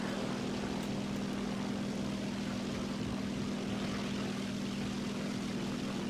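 The propeller engine of a J6K1 plane in War Thunder drones continuously, a steady low hum with a buzzing airscrew tone, constant and moderately loud throughout, with no talk.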